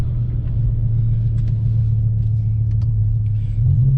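An extremely loud BMW E60 M5 with its S85 V10 engine rumbles deeply while driving, a steady low drone heard from inside that swells slightly near the end as revs rise.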